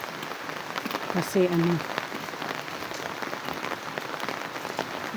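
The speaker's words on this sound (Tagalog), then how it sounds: "Ang ulan mga kabiday." Rain falls steadily on a road in the Philippines, a dense, even hiss of drops close by, with a brief spoken word partway through.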